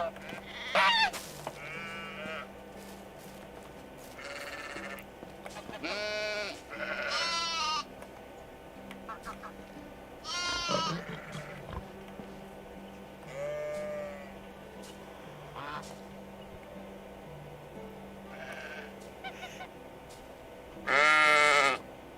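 Sheep in the medieval farming game Medieval Dynasty bleat repeatedly in wavering, drawn-out calls, several of them loud and close, spaced across a steady low ambient hum with quieter stretches between.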